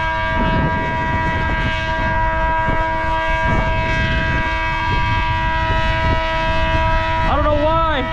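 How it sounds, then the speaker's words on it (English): A steady civil-defense style siren blares near Area 51, a sustained harmonic tone running throughout with a falling-rising wail near the end, loud and constant against a wind-like rumble. "I was just about to leave and the siren started blaring."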